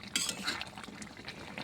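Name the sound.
stirring soybean curry in a cooking pot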